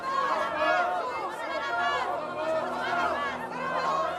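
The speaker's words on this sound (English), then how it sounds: "But Pilate is interrupted by the crowd, baying for him to release Barabbas and crucify Jesus." A crowd bays for Barabbas to be released and Jesus crucified, a dense babble of many shouting voices rising and falling in surges, close and loud.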